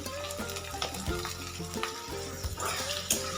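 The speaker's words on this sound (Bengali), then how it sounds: "এবার আলু এবং পেঁয়াজটাকে তেলের সাথে একটু খুব ভালো করে ভেজে নেব" Diced potatoes and onions frying in hot oil, a dense continuous sizzle with bursts of crackle and the scrape of a spatula stirring, close and steady throughout.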